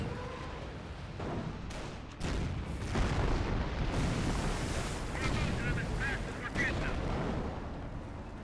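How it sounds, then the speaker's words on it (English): A Hotchkiss artillery barrage in Company of Heroes rumbles as a continuous roar of distant booms and blasts. Dense, noisy and sustained, it sounds like surf, and a voice talks over it. "Here comes the Hotchkiss barrage."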